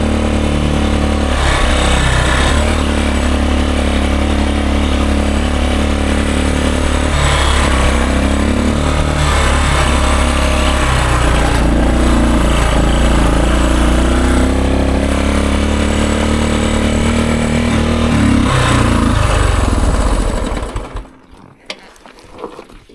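An old Honda enduro motorcycle, around fifty years old, runs roughly at elevation, its engine loud and close with an uneven, sputtering idle and rumble that holds steady before cutting out near the end.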